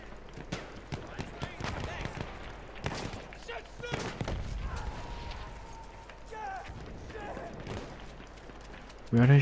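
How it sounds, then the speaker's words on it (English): Battlefield 1 combat gunfire crackles in sharp, scattered bursts and thumps, some clustered in quick volleys, mixed with game effects and a voice talking over the action. "Where are they shooting from?"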